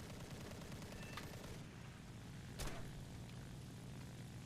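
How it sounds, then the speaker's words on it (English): Japanese Ki-43-III Otsu fighter's cannons in War Thunder arcade combat: a short burst of gunfire over a steady droning engine, with one sharper loud shot standing out near the middle. "At close range these cannons are very good."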